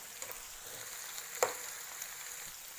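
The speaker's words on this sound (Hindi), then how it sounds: "इसे हमें 2-3 मिनट तक सौते करना है।" Onions and chopped tomato sautéing in a pan for kanda batata poha: a faint, quiet sizzle with a few light stirring taps and one brief clink.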